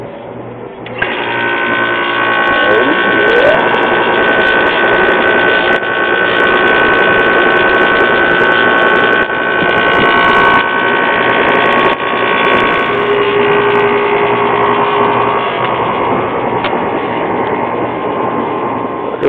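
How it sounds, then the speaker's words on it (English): The refrigeration compressor of a reach-in freezer being brought back to life hums loudly and continuously with a steady tonal drone and faint mechanical rattle, close by and uninterrupted. "It's not the quietest compressor though."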